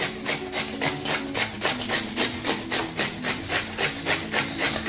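Something is rubbed fast against a hand grater while making kakadicha gharya in a Marathi kitchen, giving a steady, rhythmic rasping scrape of roughly three strokes per second, close and loud, with no talking.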